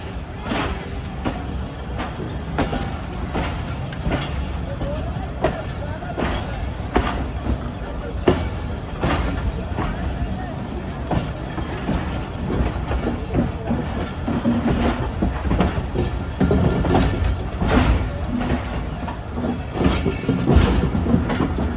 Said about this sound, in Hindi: वो आज ही विसल करते हुए ट्रेन निकल रही है।